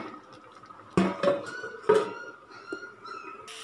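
A metal lid goes onto a cooking pot of water-simmered greens, with two sharp clanks and a few lighter clinks and scrapes of pans close by, over a faint background.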